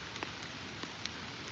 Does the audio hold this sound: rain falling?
yes